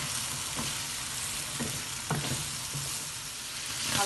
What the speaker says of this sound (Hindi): अब मज़ीद 2 मिनट के लिए चनों को भून के तो फिर हम बाकी चीज़ें इसमें डालेंगे।